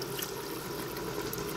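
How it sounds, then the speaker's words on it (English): A whole bottle of water pours into an Instant Pot while Moroccan chicken is being made, giving a continuous, close splashing flow throughout with no speech. "I'm going to put in a whole bottle of water in there."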